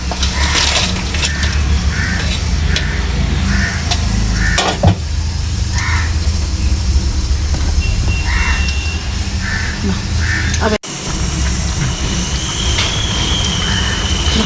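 Nepali fish curry bubbles in a pan with steady frying-like hiss and occasional stirring scrapes, loud and close, while birds caw in the background.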